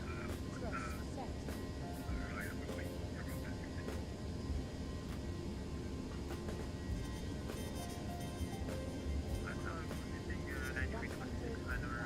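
Airbus A321 engines spooling at takeoff thrust in the X-Plane 11 flight simulator, a constant broad roar filling the background while cockpit radio voices and pilot callouts talk over it.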